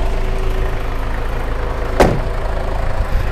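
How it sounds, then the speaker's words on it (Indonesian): The 2.5-litre diesel engine of a 2005 Ford Everest idles in a steady, low drone, evenly throughout, close by, with a single brief knock partway through. "Suaranya halus, kayak diesel"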